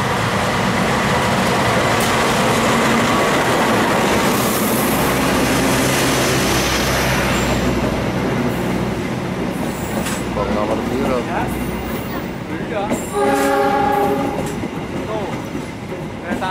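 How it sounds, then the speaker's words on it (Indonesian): Argo Wilis passenger train pulling into platform 3 of an Indonesian station, a loud continuous rumble of rail cars with rhythmic wheel clatter and a brief horn-like tonal blast near the end, with people talking faintly in the background. "Ini keretanya Argo Wilis baru saja muncul di jalur 3."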